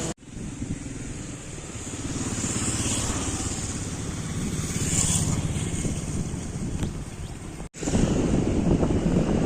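Steady sea wind at Rameswaram near Pamban Bridge roars and buffets across the recording, with a low rumbling drone beneath it and a brief dropout near the end before the gusting resumes.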